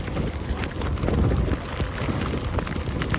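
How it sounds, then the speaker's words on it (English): Rain and strong gusting wind hit a cyclist on a 530 km sleep-deprivation training ride, a dense, constant hiss and rush of air and spatter with no speech. "the rain's coming down now. I'm getting hit. Big wind too."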